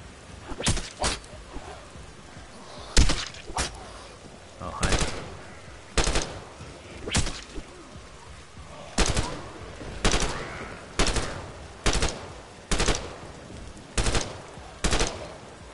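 Gunfire in the zombie video game The Last Stand: Aftermath, about a dozen loud sharp shots spaced roughly a second apart, some in quick pairs, standing out over a steady background hum.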